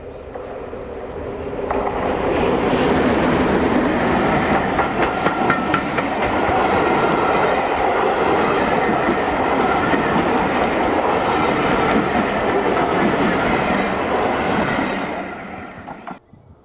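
Class 31 diesel locomotive 31466 climbs past on a heritage railway during a summer diesel gala, its loud engine drone and rumble building in quickly and holding steady with rail clatter before trailing off.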